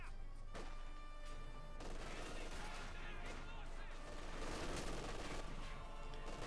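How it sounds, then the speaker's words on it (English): A captured German machine gun fires in Company of Heroes 2, with Soviet troops in a Wehrmacht-versus-Soviet battle; dense, continuous bursts of gunfire and crashes fill the scene at a steady high level, with battle noise throughout. "Fighting away there with their pilfered German machine gun."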